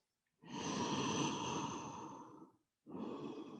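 Slow, deep breaths during a gentle yoga session: one long, close breath lasts about two seconds, and after a short pause a second breath begins, with no talking.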